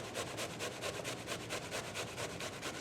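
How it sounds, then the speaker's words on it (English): Brown onions are rubbed against a grater for a paella sofrito, producing a quick, even rasping rhythm of close scraping strokes. "So basically, we're grating the brown onions."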